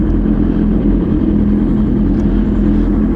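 A 2021 Suzuki Hayabusa with a stroker-built 1600cc engine runs at a loud, steady, deep idle rumble close by, with no talking over it.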